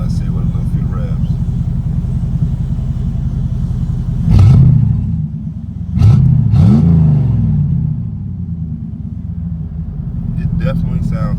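A straight-piped Camaro engine idles with a heavy low rumble inside the car, then rises in two or three short revs before settling back to a steady drone.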